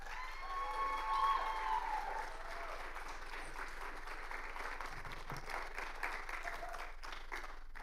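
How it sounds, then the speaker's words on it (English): A TEDx audience at Clemson University welcomes the next speaker with a warm round of applause, steady and moderately distant, with a few cheers mixed into the crowd noise. "give a warm round of applause for Mr."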